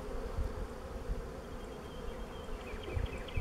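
Honey bees crawl on a frame pulled during a hive split, giving a soft, steady close buzzing hum with faint low handling bumps.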